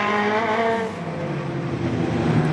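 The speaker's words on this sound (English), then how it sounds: "Next car on the racetrack will be Bucky Burton." A National 4's race car at Gympie Speedway during the final roars past close by, its engine note starting high and dropping in pitch as it goes by, with the rumble of other cars behind and no talk.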